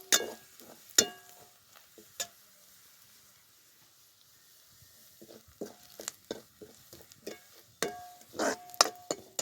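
Drumstick pods sautéing in a pan bring a soft hiss with scattered sharp clinks and scrapes from stirring, quiet and close, arriving in irregular bursts separated by near-silent gaps.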